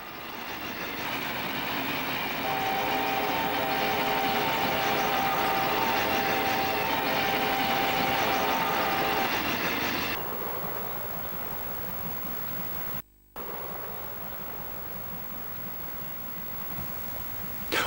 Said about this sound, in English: The doubleheader is seen at Dowds Hill near Peterborough.